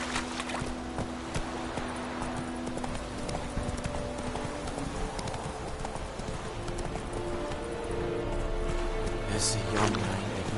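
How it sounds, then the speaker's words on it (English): Horse hooves clip-clop at a steady riding pace in The Witcher 3, a fairly quiet, even rhythm with ambient game sound underneath and no speech. "Whoa there, Roach."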